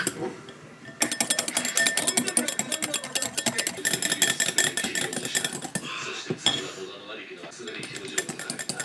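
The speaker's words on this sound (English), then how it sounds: "Do you want to whisk it?" A whisk beats icing for a gingerbread house in a bowl, a fast, continuous clatter of metal against the bowl that pauses briefly and resumes, close and busy, with faint voices in the background.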